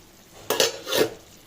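A lid comes off a pan of cooking aloo palak with a short metallic clank and scrape, followed by a second soft rattle and brief sizzle, close and quiet.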